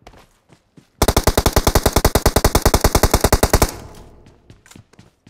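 A sustained burst of rapid automatic gunfire in the video game PUBG Mobile, loud and evenly spaced, with scattered fainter shots before and after.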